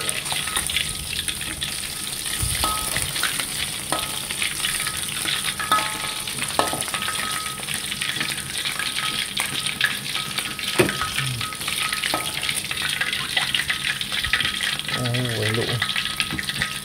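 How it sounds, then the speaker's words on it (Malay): Loud, continuous sizzling of baung catfish frying in hot oil in a pan, with occasional scraping and stirring sounds, close up and without talk. "Baung goreng."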